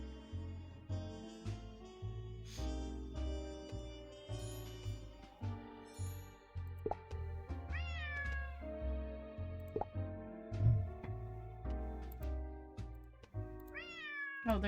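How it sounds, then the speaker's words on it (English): A cat in the Nancy Drew game Lights, Camera, Curses! meows again and again in short, clear cries at a steady pace over looping game music. "Oh, there's the cat."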